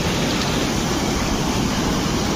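Rainwater surges through a brimming drain after heavy rain, a loud, steady broadband rush with no pauses and no voices.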